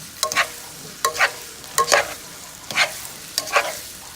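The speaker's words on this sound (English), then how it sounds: "Give that a good little toss." Shrimp linguine with garlic, chili flakes and butter tossed in a pan, five separate sizzling scrapes and clatters about a second apart, close and fairly loud, with a faint sizzle between them and no speech.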